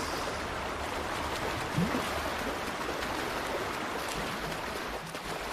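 Continuous rushing, gurgling water as the water level rises in a chamber in Shadow of the Tomb Raider, a steady moderate flow with no voices.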